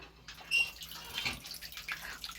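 Water splashes and trickles from a village water tap outdoors, a soft continuous wash with a few louder splashes, moderately close and without talking.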